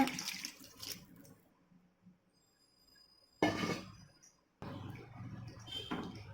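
Boiled mutton and its cooking water poured from a vessel into a masala pan, giving a short splashing pour, a pause, then a second longer stream of liquid hitting the pan.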